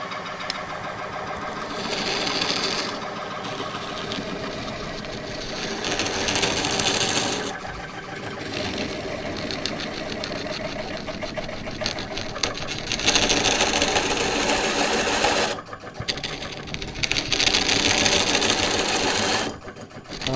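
A wood lathe turns a 23-inch-tall spruce goblet during back hollowing at a lowered speed. A steady motor whir runs throughout, with louder bursts of tool scraping against the spinning wood and no speech.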